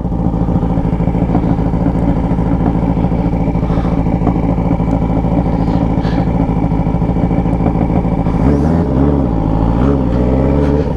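A Yamaha XJ6 motorcycle engine running steadily and loudly up close while riding, with a continuous throbbing drone that shifts pitch near the end as it changes speed.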